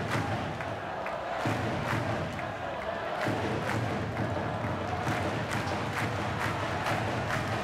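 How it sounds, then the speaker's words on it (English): Ice hockey crowd at Braehead Clan's home rink in Glasgow, facing the Växjö Lakers, roars and chants in a big arena, with rhythmic thumps and claps punctuating the noise and a commentator talking over it. "Listen to the crowd really getting the team going here in Glasgow."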